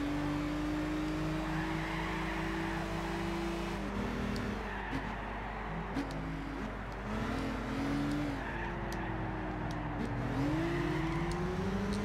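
Front- or rear-drive race car in Gran Turismo 6 driven without traction control, engine droning and shifting pitch while tyres squeal and skid continuously on a slippery surface, loud and steady throughout.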